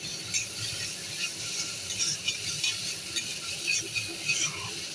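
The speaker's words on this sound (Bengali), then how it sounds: "আমার মশলাটা কিন্তু কষানো প্রায় হয়ে গেছে" Spice paste sautéing for a thin pangas fish curry, a steady close sizzle with the scrape of a spoon stirring the pan, continuous with faint irregular clicks.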